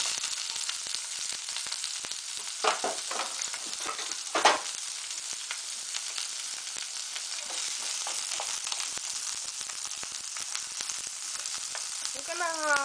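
Chopped onion and jalapeno sauté in a little oil in a pan, giving a steady, even sizzle throughout, broken by a couple of sharp clinks from stirring.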